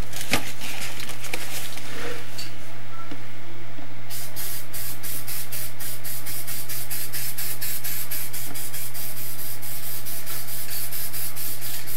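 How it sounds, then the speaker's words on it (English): A can of black spray paint hisses in a steady, continuous burst, then pulses in rapid short sprays, loud and close. "I'm just going to take just a little bit of black spray paint."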